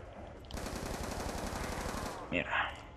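A sustained burst of rapid automatic gunfire rattles for about a second and a half in Call of Duty Nuketown Zombies, followed by short sharp clanks and a brief voice.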